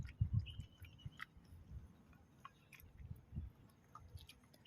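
A sick stray dog with uterine cancer chews food up close, soft wet bites and smacking coming in irregular bursts against quiet surroundings.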